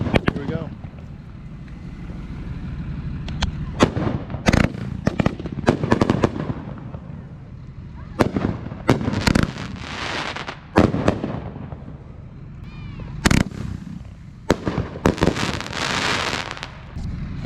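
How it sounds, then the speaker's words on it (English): Fireworks closing out a night show at an off-road truck festival, a string of sharp bangs and crackling bursts at irregular intervals over wind and crowd noise, with people talking throughout. "A good time finishing up the show with some fireworks here."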